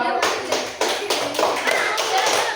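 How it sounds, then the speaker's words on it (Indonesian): A primary school class claps together in a quick burst of applause, a dense run of sharp hand claps lasting a couple of seconds. "Kelompok lain silakan tepuk tangan untuk kelompok 2."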